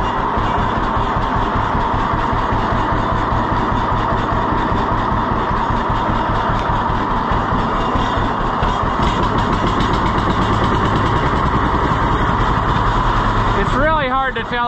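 John Deere B tractor engine running after a cold start on a newly installed carburetor, a steady close, loud chugging idle with an even pulsing beat that continues without a break.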